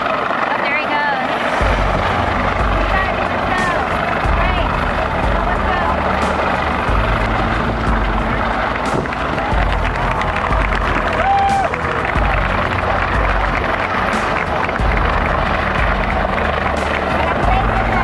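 A Coast Guard rescue helicopter hovers over the Carnival Sensation cruise ship in the middle of the ocean during a passenger airlift, its rotor drone steady and loud throughout, with crowd noise and voices mixed underneath.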